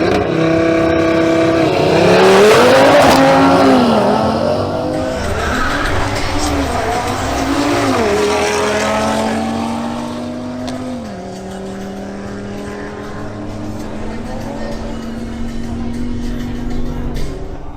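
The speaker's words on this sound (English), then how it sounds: "Next up are Stick Gonzalez in his BMW X3 M40i versus Jason Espitia in his Audi RS3." BMW X3 M40i and Audi RS3 drag racing on a strip: loud engines rev and roar as the cars launch, with tire squeal and rising then falling engine tones, a voice talking over the noise throughout.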